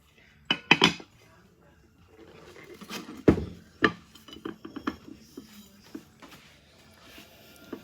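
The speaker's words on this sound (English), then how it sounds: "time to flip the cake" A 7UP pound cake is turned out of its baking pan, bringing loud metallic clanks and knocks of the pan, a thud as the cake drops free, then lighter taps and scrapes with some faint low talk.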